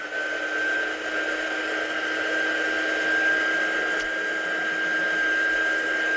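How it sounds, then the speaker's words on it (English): Heat gun blowing hot air to dry ink on a card, a steady loud whooshing drone with a constant whine, continuous and close for the whole stretch. "I'll give that a quick blast with a heat gun to make sure it's not too wet"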